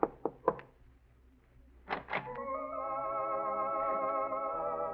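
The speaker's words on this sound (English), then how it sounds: "you knock lightly on the door" Three light, quick knocks land on an apartment door in a small building on Fountain Avenue near Cahuenga. A sustained tonal hum then rises and holds steady after a short pause.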